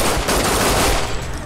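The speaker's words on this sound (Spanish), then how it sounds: "disparo a la cabeza, muy buena" Rapid automatic gunfire in a Tomb Raider Definitive Edition team-versus-team multiplayer match, a loud dense burst of shots that tapers off near the end.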